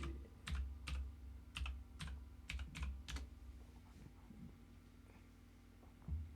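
Quick bursts of typing on a computer keyboard, a few clustered runs of close, crisp key clicks followed by quieter pauses, with no voices.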